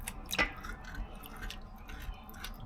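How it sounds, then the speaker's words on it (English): Fish scales being scraped off a fish in a basin of water, giving a few short wet scraping strokes with faint splashy squishing between them. "I scrape the fish in there."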